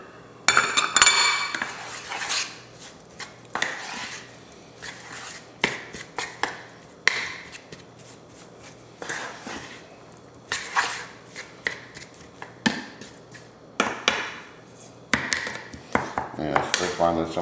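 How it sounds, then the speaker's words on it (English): A spoon clinks and scrapes against a bowl while mixing and breaking up cooked rice, with repeated sharp metallic taps and scrapes separated by short pauses, close and fairly loud. "Breaking up our rice to make sure it gets mixed up thoroughly."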